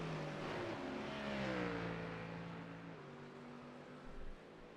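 Mustang race car engine in a GT3 racing game at Sebring, revving and shifting through gears with rising then falling pitch, steady and fairly loud, fading off near the end.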